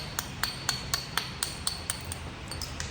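Tallahatta quartzite is struck while knapping a Clovis point to drive overshot flakes, giving about a dozen sharp, glassy clicks at a steady rhythm over a low background rumble.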